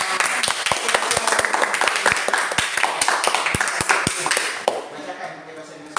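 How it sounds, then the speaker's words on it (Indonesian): Applause in a teacher training session, a dense patter of clapping with sharp distinct claps cutting through, close and fairly loud before fading near the end. "Tepuk tangan lagi."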